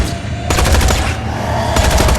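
Rapid automatic gunfire from the video game Tales from the Borderlands comes in two loud bursts separated by a short pause, with heavy low rumble beneath the sharp repeated shots.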